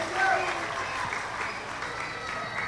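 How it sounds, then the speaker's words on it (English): Audience in a school theater production applauding together, a steady broad clatter of clapping that swells early and holds evenly to the end, with some voices mixed in. "I'd like to request everyone to clap, to give ourselves a round of applause."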